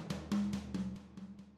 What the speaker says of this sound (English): The toms sound a bit like this.